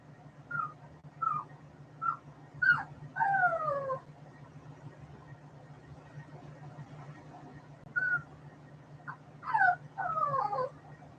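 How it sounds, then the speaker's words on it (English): A distressed dog lets out a series of short, high whimpers and whines indoors, a few spaced yelps followed by longer drawn-out cries, with quiet pauses between bursts and a low steady hum underneath. "I don't know what's wrong with the dog."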